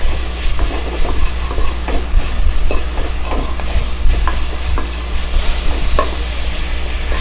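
Onions sautéing in a pan for vegetable kushka, a steady sizzle with scattered stirring clinks and scrapes, close and fairly loud, over a low constant hum, with no voices.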